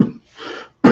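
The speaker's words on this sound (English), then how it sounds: "a bad cough" Two short, harsh coughs from an adult man indoors, a loud burst at the start and another right at the end, with a fainter breathy sound in between.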